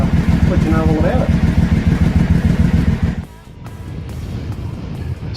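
A Triumph America motorcycle fitted with a booster plug rumbles loudly under throttle with a pulsing engine note, then drops to a quieter idle with wind noise.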